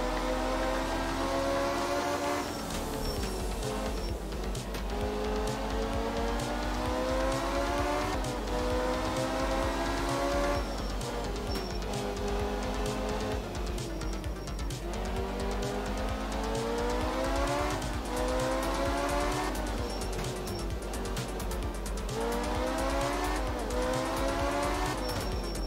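A rally car in the Art of Rally video game, its engine revving up through repeated gear shifts with tires squealing and skidding on loose surfaces, loud and continuous for the full stretch, no speech.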